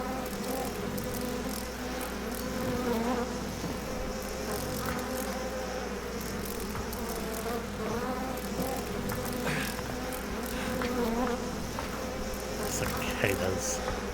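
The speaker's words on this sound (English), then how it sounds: "Cicadas." A dense swarm of cicadas buzzing in the horror video game Outlast II, a steady insect drone filling the background, with faint voices and other game sounds under it.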